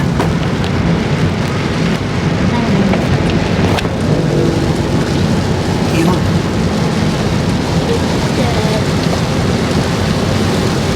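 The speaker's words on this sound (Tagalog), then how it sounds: "Ayan na nga. Ayan na. Umulan na." Heavy rain pours steadily and loudly, a continuous close wash of water, with a single brief spoken word.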